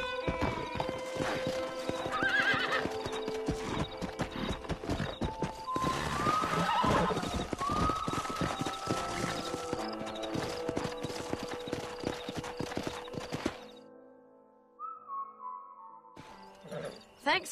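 Horses in the Red Dead Redemption video game clip-clop in a steady rhythm of hoofbeats, with several loud whinnies rising over the trotting and a brief quiet gap near the end.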